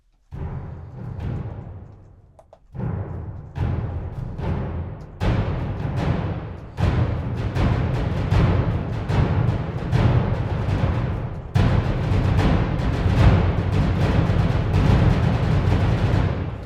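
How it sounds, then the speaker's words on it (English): Epic orchestral percussion hits from a sample library, booming drum strikes building from sparse single hits into dense, rapid, rolling patterns, loud and reverberant with no talk. "We have our percussion hits, all, which sound really epic"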